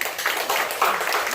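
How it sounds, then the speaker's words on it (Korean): A church congregation claps together, a brief burst of dense, moderately loud applause in a hall, with no talking. "박수 한번 칩시다."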